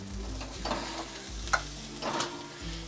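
Garlic frying in a pan over a low flame, with spices, salt and chat masala being roasted in. A soft, steady sizzle runs throughout, broken by irregular scraping stir strokes and a low hum underneath, at close range.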